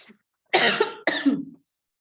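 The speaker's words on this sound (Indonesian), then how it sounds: "Aduh, saya batuk nih." Two harsh, close coughs in quick succession, then silence.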